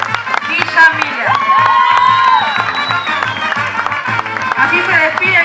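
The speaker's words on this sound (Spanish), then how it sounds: "Muchas gracias por sus aplausos" A live audience claps and cheers after a Paraguayan folk dance group's performance at a cultural celebration in Quilmes, a close, lively crowd sound with a voice ringing over it throughout.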